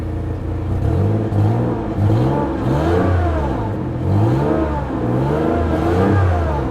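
2006 Mazda 6s engine revving up and down repeatedly in rising and falling swells, loud and close, uneven and running rough, with no talking.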